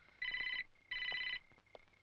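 A telephone rings in a home, two loud electronic ring bursts about half a second each separated by a short gap, close and clear with no talk.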